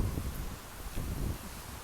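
Strong wind buffets the microphone outdoors and rustles flowers and plants in a steady, low roar with gusty swells and no voices.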